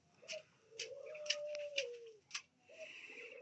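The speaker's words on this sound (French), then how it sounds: "Ouais, peut-être la tourterelle." Dove cooing in a rural garden near a feeding bowl, several soft repeated coos in a low rhythmic phrase with brief higher chirps, close and moderately loud, no talk.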